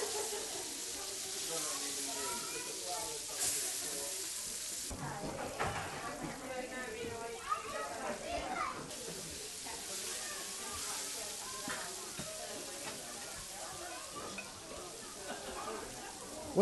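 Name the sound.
floured herring (silver darlings) frying in a pan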